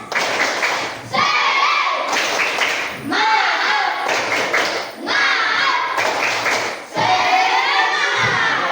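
A classroom of schoolchildren performs the rhythmic spirit clap, bursts of claps and chanted shouts in repeated phrases roughly every second or two, loud and close, with short pauses between rounds.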